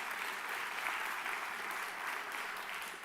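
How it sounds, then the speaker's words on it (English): An audience at the AMIA bombing commemoration ceremony applauds with a steady, even wash of clapping, moderately quiet and continuous from start to finish. "that merits applause"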